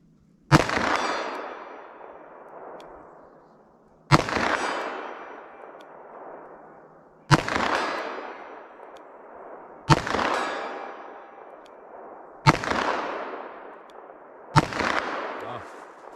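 .357 Magnum revolver shots fired with cheap Serbian PPU ammunition at a range, six loud sharp cracks spaced a few seconds apart, each followed by a long echoing decay, with no voices between them.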